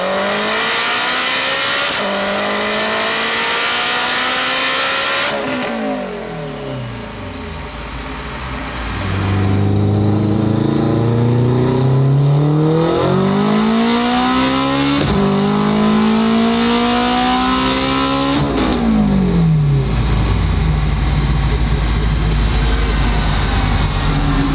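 A turbocharged all-wheel-drive Honda RSX with a sequential gearbox pulls hard, its engine rising in loud sweeping revs broken by several rapid upshifts, each dropping the pitch before it climbs again, continuous and close.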